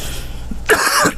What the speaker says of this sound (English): I get agitated when I have to do all this coughing.